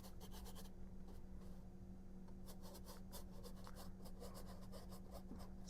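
A dry paintbrush scumbles oil paint over an acrylic underpainting on canvas, making faint, close bristly scratches in short bursts of strokes with brief pauses between them.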